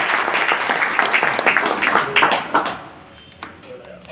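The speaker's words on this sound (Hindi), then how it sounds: "एक बार शानदार ताली से, शानदार।" Seminar audience in Kotma applauding, a dense patter of claps at moderate distance for about three seconds that thins out and fades near the end, with a few scattered taps and a faint voice underneath.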